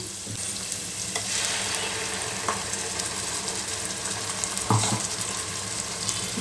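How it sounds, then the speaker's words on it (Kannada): Ground masala frying in oil in a pan for soya curry gives a steady, close sizzle with occasional scraping stirs and a few brief clinks, continuous and fairly loud, with no talking. "ಎಣ್ಣೆಯಲ್ಲಿ ಚೆನ್ನಾಗಿ ಫ್ರೈ ಮಾಡ್ಕೋಬೇಕು"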